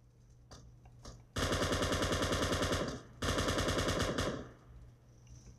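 Automatic gunfire in the battle royale game PUBG, two long loud bursts of rapid rattling shots separated by a short pause, preceded by a few faint isolated clicks and dying out afterward.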